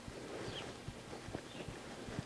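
Soft hoof clops of a horse walking, an uneven plodding rhythm heard at a moderate distance over low background noise.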